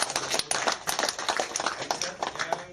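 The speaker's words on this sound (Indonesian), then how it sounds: "tepuk tangan untuk" A small audience at a candidates' debate in Papua claps for a speaker, an uneven flurry of nearby hand claps lasting a few seconds with no voices.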